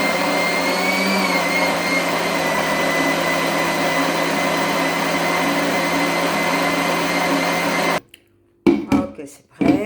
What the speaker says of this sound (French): Je place le mixeur